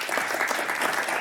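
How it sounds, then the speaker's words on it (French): Steady, dense applause from a studio audience at a television talk show, a close continuous patter of many hands without any talk over it. "vous pouvez applaudir"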